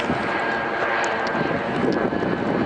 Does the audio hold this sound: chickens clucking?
no